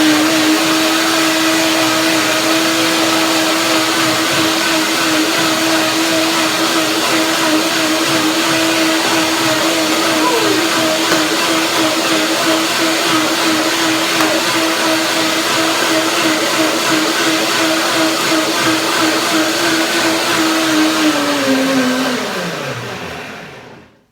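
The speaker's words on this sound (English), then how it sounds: "Blender dance." A countertop blender whirs loudly and steadily, mixing oat milk with cacao for a pear and chocolate oat cream, holding one constant pitch before spinning down to a stop at the end.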